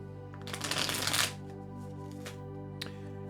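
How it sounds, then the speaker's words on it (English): A deck of tarot cards is riffled and shuffled for about a second, a close, crisp burst of flapping cards, followed by a soft card tap later over a quiet background tone. "Ah, the sound of shuffling cards."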